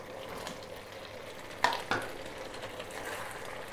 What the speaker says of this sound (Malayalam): ഇനി നമുക്ക് ചിക്കൻ ചേർത്ത് കൊടുക്കാം.